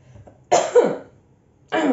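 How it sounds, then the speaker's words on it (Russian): A woman gives two sharp, throaty coughs about a second apart, close and fairly loud against a quiet background. "закашлялась"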